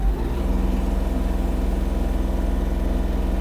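A Kubota GL-320 Japanese mini tractor's small diesel engine chugs steadily at low speed in low first gear, an even, throbbing mechanical rhythm close by with no voices.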